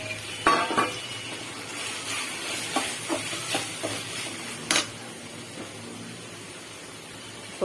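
Tomatoes sautéing in a pan, a soft continuous sizzle broken by scattered clinks and scrapes of a utensil against the pan, close and moderately quiet.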